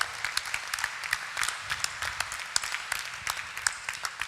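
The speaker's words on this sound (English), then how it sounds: "a big round of applause to Toyota" At a corporate HR debate event, an audience claps in scattered, moderately distant applause, with sharp individual claps standing out over the steady patter.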